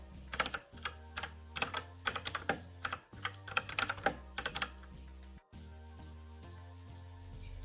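Someone types on a Razer BlackWidow Chroma mechanical keyboard, producing close, crisp clacking keystrokes in quick irregular bursts with brief pauses, over a faint steady hum and no talking.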